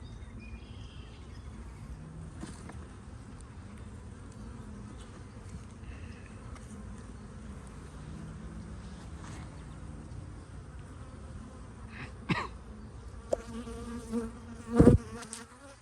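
Honeybees from an opened hive buzzing steadily through a first inspection after winter, a constant close drone with a few louder passes of single bees near the end.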